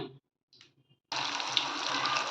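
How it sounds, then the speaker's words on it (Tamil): Banana flower vadas frying in hot oil in a kadai, a steady loud sizzle and crackle starting suddenly after a brief quiet stir, continuing close and unbroken. "ஒரு கடாயில் எண்ணெய் ஊற்றிக்கிட்டு இந்த எண்ணெய் கொஞ்சம் ஹீட் ஆனோடனே நம்ம தட்டி வச்சுருக்கிற வாழைப்பூ வடையை போட்டு எடுத்துடலாம்"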